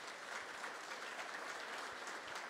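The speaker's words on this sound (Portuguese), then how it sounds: "Digo isso e sou aplaudido" An audience at a political rally applauds steadily, dense clapping that holds at an even level throughout with no voices over it.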